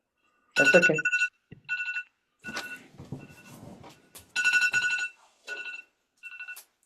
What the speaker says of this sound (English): that was my alarm for the interview